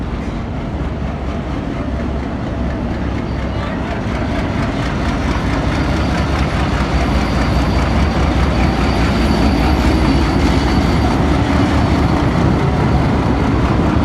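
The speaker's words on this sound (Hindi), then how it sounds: "HQ 28079 के साथ हल एक्सप्रेस पहुँच रही है मुल्तान कैंटोनमेंट रेलवे स्टेशन पर।" An express train arrives at Multan Cantonment railway station with a loud, continuous heavy rumble of locomotive and rolling wagons, swelling gradually and staying steady throughout, with no voices.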